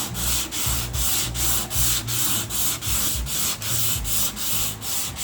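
A 1981 Oldsmobile G-body's car body is sanded by hand in steady back-and-forth strokes, about two per second, a loud close rasping rhythm with no voices.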